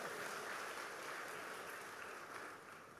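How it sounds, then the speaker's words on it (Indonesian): Applause from a church revival congregation, a dense, steady wash of clapping that runs alone from start to finish and thins slightly near the end. "Tepuk tangan yang meriah begitu."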